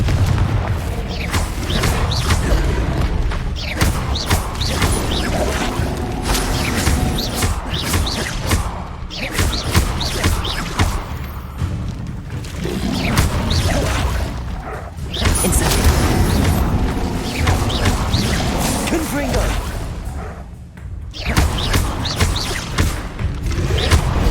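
Repeated Confringo spell explosions during combat in Hogwarts Legacy, loud booms and thuds following one another almost continuously over roaring battle noise, with occasional shouted spell casting.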